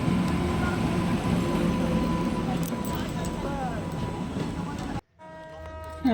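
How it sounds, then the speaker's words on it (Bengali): A train arriving rumbles and hums steadily at a busy station amid crowd chatter, with a brief drop to quieter background near the end. "একটা ট্রেন আসলো"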